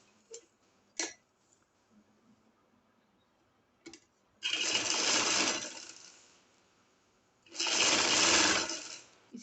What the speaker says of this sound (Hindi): इसी तरह हम सारी सिलाई लगा लेंगे।